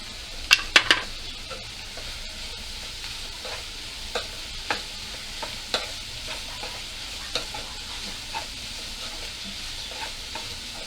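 Green chilli and tomato frying in a pan, a faint steady sizzle punctuated by sharp metallic clinks and scrapes of stirring, loudest in a quick cluster at the start and then spaced out, no talking.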